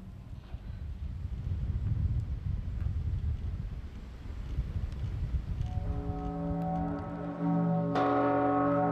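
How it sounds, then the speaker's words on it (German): Church bells ringing at a high Italian mountain site above 2000 meters, first masked by wind rumble, then clear sustained tolls ringing out, with a fresh strike near the end. "Und zu unserer Begrüßung läuten die Glocken."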